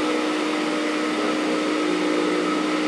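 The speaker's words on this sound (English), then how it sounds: "the suction of the machine can be heard flowing through the hose all the way to the power head" A Compact C9 vacuum cleaner draws suction through its hose to the power head on carpet, a loud, steady, unbroken roar with a constant whine.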